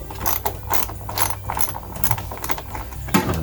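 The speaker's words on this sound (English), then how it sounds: "now we just have to crack loose the two mounting bolts for the passenger side fuel rail" Ratcheting wrench clicks in quick repeated bursts as mounting bolts are cracked loose on the passenger-side fuel rail of a 1999 GMC Sierra 2500HD, close and clear, with no talking.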